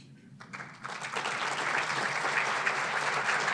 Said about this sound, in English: Could I ask just quickly all of our municipal leaders and officials to stand so we can give you a round of applause?